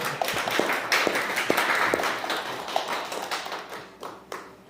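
A small church congregation claps in welcome, a loose patter of individual hand claps with distinct sharp hits, fading and thinning toward the end.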